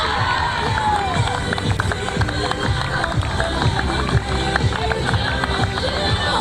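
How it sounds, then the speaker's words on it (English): Outdoor crowd applause and cheering for school cricket teams on the final day of the School Games 2024, with dense, steady clapping and shouts running throughout. "just another round of applause please for all the teams in front of us today"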